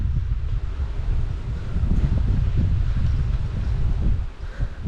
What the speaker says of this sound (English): It's pretty windy now.